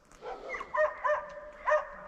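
A dog barks far off outdoors on a rural property, a few short yelps spaced over two seconds, faint and distant against open-air background.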